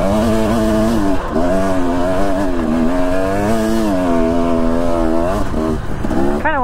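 Motorcycle riding along a single-track trail, its engine droning steadily up close with rising and falling pitch as the rider works the throttle, loud and continuous throughout with no talk.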